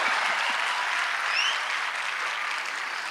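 Dense, steady audience applause at a Hindi poetry recitation, a full crowd clapping loudly and continuously for the whole stretch, tapering only slightly at the end.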